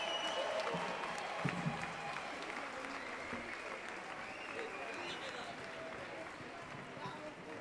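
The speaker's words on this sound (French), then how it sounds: "Merci beaucoup à tous ceux qui ont applaudi." Concert audience applauding after a set by a balafon reggae band at a Lyon museum venue, a dense steady wash of clapping with some crowd noise mixed in, held throughout.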